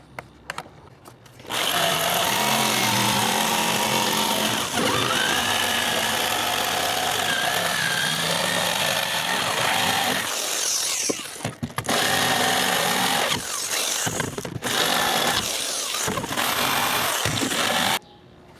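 Power tool cutting holes through a sheet of plywood in a garage workshop, a loud sustained whine for long stretches broken by brief pauses, with no talk.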